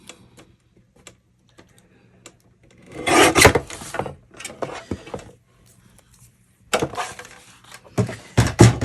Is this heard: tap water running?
no